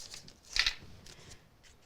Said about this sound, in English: Bring in our scissors and we can trim away the extra bit that we don't need.